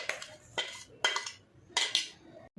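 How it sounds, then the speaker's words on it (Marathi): A metal spoon scraping sweet laddu mixture out of a cooking pot, four or five sharp scraping strokes with short pauses between them, close and distinct with no talk. "आणि या भांड्याचं पण चमचच्या साहाय्याने काढून घ्यायचं आपल्याला पूर्ण"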